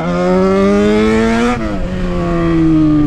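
A Yamaha XJ6 motorcycle engine revs loud and close during wheelie practice, holding a steady high pitch that climbs, dips briefly, then sustains again.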